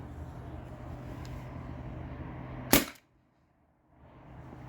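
A T4E TR68 air-powered marker fires a single round ball from an HPA tank: one sharp, close crack over a low steady hum, followed by near silence before the hum returns.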